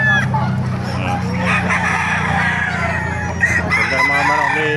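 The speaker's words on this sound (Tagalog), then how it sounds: "Ganda mga manok ni Boss Joey." Several chickens and roosters crow and cluck together at a Bocaue, Bulacan poultry market, a steady loud chorus of overlapping calls with a low hum of crowd noise beneath.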